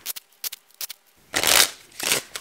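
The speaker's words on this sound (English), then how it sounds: "we'll shuffle for draw number two." A deck of cards being shuffled: a few short riffle clicks, then a longer, louder riffling burst and a final shorter one, close and alone with no talk.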